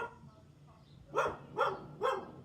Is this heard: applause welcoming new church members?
no